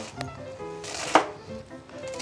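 A kitchen knife chops through napa cabbage, a sharp cut landing in the middle among soft handling noises, with faint background sounds of a Japanese hot-pot cooking session.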